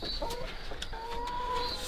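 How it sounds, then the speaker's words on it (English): Friendly hens in a coop or run cluck and murmur softly at close range, with a few sharper squawks over a steady background hum, and no talking. "they're quite friendly chickens"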